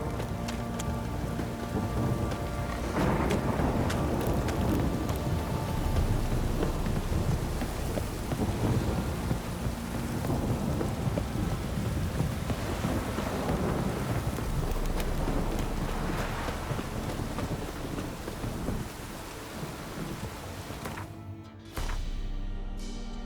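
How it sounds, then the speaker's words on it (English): Heavy rain pours steadily in The Witcher 3 while deep rolls of thunder rumble through the downpour, loud and continuous for most of the stretch before cutting off abruptly near the end. "This downpour's a bastard, it is."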